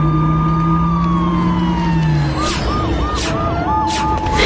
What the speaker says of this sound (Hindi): तभी पुलिस की गाड़ी आई।